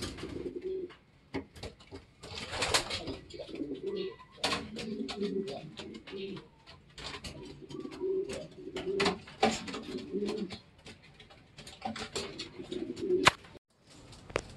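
Pigeons coo in low, repeated murmurs, close by, with wing flutters and scuffling between calls, at a racing pigeon toss.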